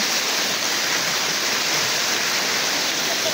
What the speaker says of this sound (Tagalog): Kakawayan Falls.